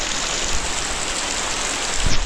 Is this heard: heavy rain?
yes